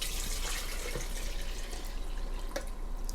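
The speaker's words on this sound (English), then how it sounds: "So 1 litre of water, straight in there." A litre of water poured into a mixing bowl, heard as a steady close splashing flow with a few drips and small plinks.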